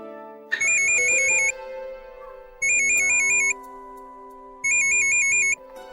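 A phone ringtone plays three separate electronic ringing bursts, evenly spaced with short pauses between them, fairly clear and close.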